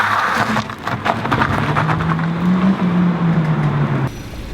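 A 2016 Renault Megane GT with a double-clutch gearbox revs up for a launch control start, the engine note rising and holding steady before cutting off abruptly near the end, with rushing wind and road noise around it.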